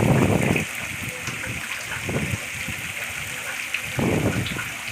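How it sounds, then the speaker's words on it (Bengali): Soybeans and potatoes sauté with spices in a pan. A close, steady sizzling hiss is broken by bursts of stirring and scraping. "ভালো করে আমি মশলার সঙ্গে সোয়াবিন আর আলুটাকে কষিয়ে নিচ্ছি"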